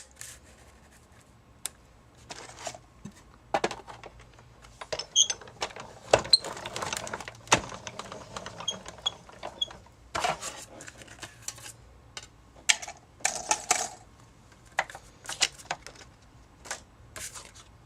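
A die cutting machine feeding pattern paper through with a scalloped mat die, giving a quiet run of irregular rubbing, clicking and crinkling bursts, faint and close, with no talk.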